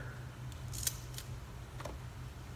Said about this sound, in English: I'm going to cut this up too